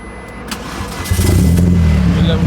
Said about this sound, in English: Oh, he's going to go and start the car up.